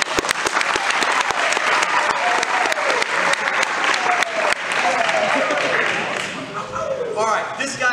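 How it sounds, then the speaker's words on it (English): Loud, dense audience applause for Gage Busby fills the whole stretch, with sharp individual claps over a continuous crowd roar and a voice cutting through near the end as it thins. "Give Gage Busby a round of applause."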